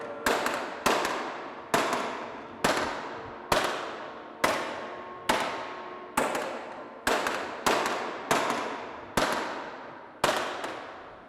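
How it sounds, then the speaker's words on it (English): Sharp wooden clapper knocks during a church communion service repeat about a dozen times at a steady, slightly uneven pace, each crack ringing briefly before the next, loud and close with no voices. "That sound is the sound of the hammer driving the nails into Christ's hands when he was crucified on the cross."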